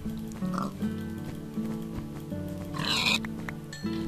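Minecraft pigs let out several short, nasal oinks and grunts at moderate volume over a quiet game background, with a brighter burst of game noise near the middle.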